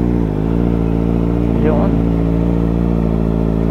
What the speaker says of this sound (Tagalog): Ang daming motor, oh.